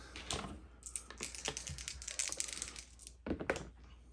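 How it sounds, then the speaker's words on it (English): Dice thrown in a Star Wars Legion tabletop wargame clatter in quick bursts of sharp plastic rattles and clicks, close and fairly loud with no voices, ending in a final short tumble. "we will throw 2 dice into Leia with Sharpshooter 1"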